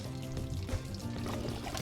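Hot water pours and splashes from the drain plug of a Jayco 267 BHS bunkhouse camper's water heater, a steady close gush running through the whole moment with faint background noise.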